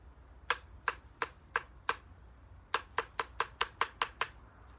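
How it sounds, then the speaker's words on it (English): A Flissa survival knife chops through slimy, congealed food in a row of sharp, crisp strikes: five evenly spaced cuts, a short pause, then a faster run of about eight more, close and loud. "let's go ahead and do some slices then"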